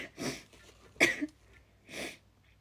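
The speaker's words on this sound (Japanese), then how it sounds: "くしゃみです" A young woman sneezing indoors, three short, separate bursts of breath spaced about a second apart, close and fairly soft against a quiet background.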